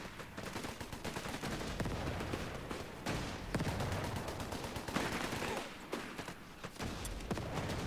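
Dense, continuous gunfire from a Company of Heroes 3 battle in Italy, with rapid machine-gun bursts and scattered heavier thuds layered into a loud, unbroken wall of combat noise.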